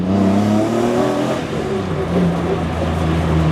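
A loud, raspy BMW E36 M3 with a swapped S54 engine revs steadily up close, a harsh growl sustained throughout with no talking.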